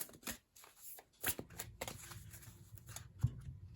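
Moonology oracle cards are shuffled by hand in short riffling bursts and soft flicks, close and fairly quiet, with no talking.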